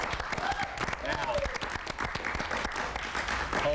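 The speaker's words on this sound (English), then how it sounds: "hold the applause" Brisk audience applause with dense, crisp claps runs throughout, and a voice talks over the clapping.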